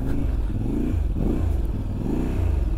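A Voge DS800X Rally adventure motorcycle engine revs up and down in loud, rough bursts, close by, with some clattering as the bike works over uneven off-road ground.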